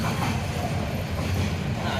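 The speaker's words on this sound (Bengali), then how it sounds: "আমাদের ট্রেন চলে গেছে।" A train sits at a station platform, giving off a steady low rumble with broadband hiss and no distinct events, heard at moderate level for a couple of seconds.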